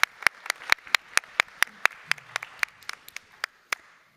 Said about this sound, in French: Je vous demande d'applaudir, s'il vous plaît.